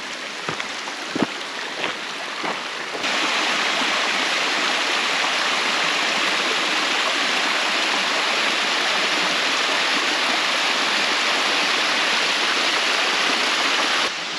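A creek running beside a forest trail near a waterfall rushes steadily and loudly without a break, after a few seconds of quieter trickling broken by sharp clicks and taps.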